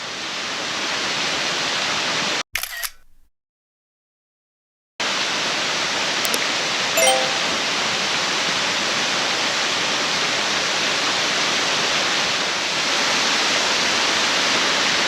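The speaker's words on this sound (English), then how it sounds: "One beautiful waterfall after another." Waterfalls at Plitvice Lakes National Park roar in a dense, steady rush of falling water, broken by a brief cut to silence before the heavy wash returns and continues unchanged.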